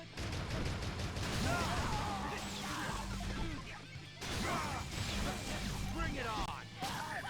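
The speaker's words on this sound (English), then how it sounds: "there's a machine gunner somewhere" Rapid automatic gunfire and impact effects from the video game No More Heroes 2: Desperate Struggle, loud and continuous throughout with crashes and whooshes, mixed under game sound with brief breaks.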